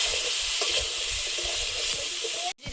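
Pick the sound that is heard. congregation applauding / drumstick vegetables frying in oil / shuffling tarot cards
drumstick vegetables frying in oil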